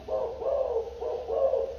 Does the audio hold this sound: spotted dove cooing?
yes